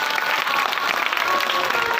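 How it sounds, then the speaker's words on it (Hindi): An audience at a Bhagwat Katha religious gathering applauds with dense, sustained clapping from many hands, loud and even from start to finish. "पीछे से ताली बजाओ"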